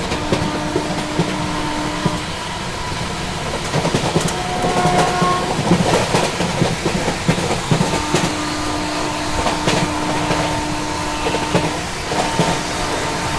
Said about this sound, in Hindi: क्रॉसिंग हो रही है अपनी फिलहाल अमरपुर अरावली एक्सप्रेस से।